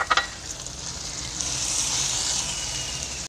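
Tomatoes added to goat trotters masala frying in a pan, a steady close sizzle with a few sharp crackles at the start and no voices.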